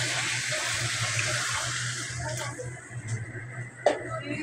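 Water pours into a cooking pot with a steady, rushing splash for about two seconds, then trickles and clatters faintly before a sharp knock.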